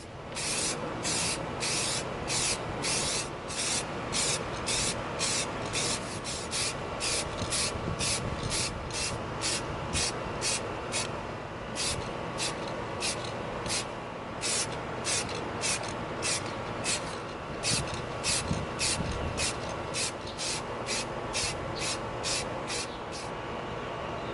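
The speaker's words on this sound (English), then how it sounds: "We're going to begin spraying our plasma cutter with our matte finish slate." A long, steady hiss of an aerosol can spraying matte slate gray paint onto an EVA foam prop, with short rhythmic bursts and brief pauses, close by and fairly loud, outdoors.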